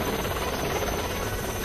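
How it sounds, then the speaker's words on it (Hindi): An Indian Coast Guard Chetak helicopter flies over the Arabian Sea during a rescue of fishermen from a sinking boat, giving a steady, dense rotor-and-engine roar with no voices. "तुरंत एक चेतक हेलीकॉप्टर को रवाना किया गया"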